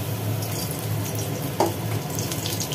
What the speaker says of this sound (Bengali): বেসম দিয়ে শ্যাবলা দিয়ে সুন্দর করে ভাজা, এই কড়ার মধ্যে ছেড়ে দেওয়া হলো